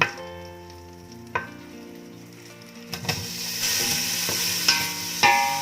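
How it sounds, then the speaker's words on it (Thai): Sausage sizzling in butter in a pot, the first step of a German-style pea soup, a low hiss at first, then brighter crackling with sharp spoon-stirring knocks building toward the end. "เราก็เจียว ไส้กรอกเราให้เหลืองเนาะ"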